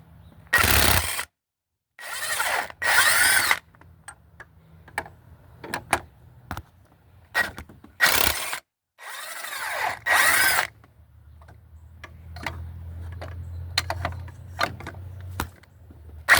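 A power tool takes bolts out of the 2.4L engine of a 1997 Dodge Stratus during a timing belt job. It whirs in several short, loud bursts close up, with quiet pauses and small clicks between them.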